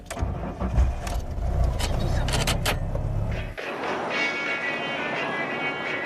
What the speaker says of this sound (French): tout le monde peut conduire cette vieille Citroën ZX